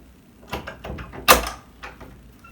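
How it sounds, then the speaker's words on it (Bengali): A series of knocks on a room door, several sharp raps spread over a couple of seconds with one hit clearly louder than the rest, close by in a quiet room. "কে দরজা নক করে।"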